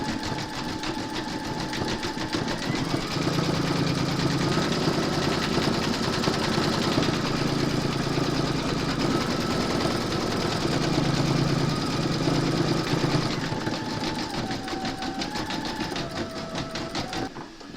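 An embroidery machine stitches a zigzag round on bunny slippers, a rapid, steady mechanical chatter with a whining motor tone that shifts pitch several times, running continuously and close by with no talk.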